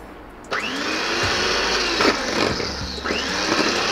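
An electric beater whirring steadily through cake batter with powdered sugar, a loud continuous motor whine with brief pitch dips as the beaters shift in the bowl.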